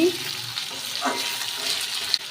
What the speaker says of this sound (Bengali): দিয়ে দেবো কাঁচা লঙ্কা, দিয়ে এটাকে ভালো করে আলুটাকে কষিয়ে নেব।